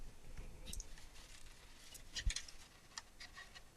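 Quiet snips and clicks of scissors cutting through card, a few short crisp cuts spaced apart, close by.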